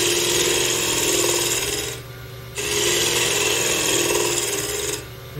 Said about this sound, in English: Still staying with my heavy gouge now. Just going to do some shear scraping.